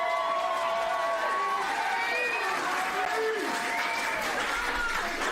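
A small crowd at a tire wrestling event applauds and cheers continuously, with raised shouting voices mixed through the clapping.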